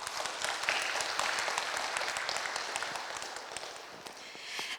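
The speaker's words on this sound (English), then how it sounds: "One more big round of applause for our trainer" Sustained applause from a room full of people at a training session, steady and fairly distant, with crisp individual claps throughout.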